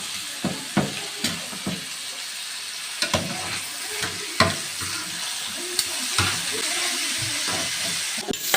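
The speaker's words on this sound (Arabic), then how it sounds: "انا يا حبايبي هشوح البصلايه كده بس 5 دقايق" Chopped onion sautéing in a pan while being stirred, with a steady loud sizzle, occasional clattering stirs and soft scraping throughout.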